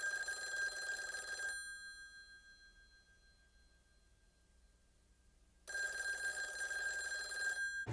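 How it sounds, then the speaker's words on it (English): Bursts of telephone bell ringing inside a music track, a loud sustained trill that stops for several seconds then returns just as loud, over a quiet low background. "the telephone starts ringing"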